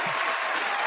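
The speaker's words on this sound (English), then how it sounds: "gonna clap it up for you because you made it" A brief burst of clapping for a guest during a conversation with Nashville's Da' Healerz, a steady, noisy patter lasting under a second.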